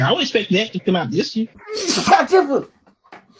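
A single sharp sneeze bursts out in the middle of casual conversation, loud and close, right after a man finishes a sentence.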